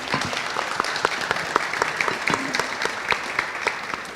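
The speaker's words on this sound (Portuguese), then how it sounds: "Palmas para eles." Audience applause for panelists at the close of a public consultation session at a festival, steady dense clapping from a moderate-sized crowd, heard from within the room.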